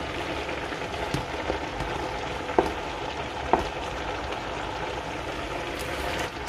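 Leeks and cabbage frying in a pot give a steady, close sizzle and crackle throughout, with a couple of sharper pops or stirring knocks partway through; no one speaks.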